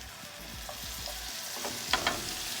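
Soft, steady sizzling of bread slices frying in butter in a skillet over medium heat, with a few light scrapes and clicks near the end.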